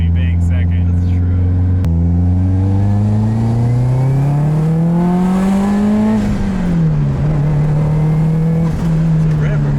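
A right-hand-drive JDM turbo hatchback accelerates hard, engine note climbing steadily, dropping briefly at the shift into second gear and then pulling again, loud and close from inside the car, with people talking over it.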